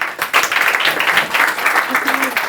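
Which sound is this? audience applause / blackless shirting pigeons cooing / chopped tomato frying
audience applause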